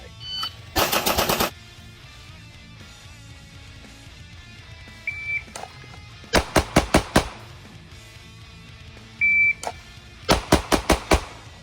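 A pistol in a shooting drill fires rapid strings of sharp, loud cracks, several quick shots in close succession, repeated in separate bursts with short electronic beeps between them.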